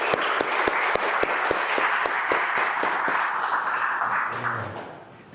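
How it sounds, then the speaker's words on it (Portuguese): An audience at a symposium on rhetoric in Augustine's Confessions applauds the arriving bishop, a dense, steady wash of clapping punctuated by regular loud thumps, fading out at the end. "uma salva de palmas para o nosso bispo."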